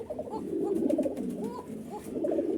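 A Koka pigeon, a big healthy farm-kept bird, coos close by in deep, rolling, throaty phrases that repeat steadily for a couple of seconds with little else around.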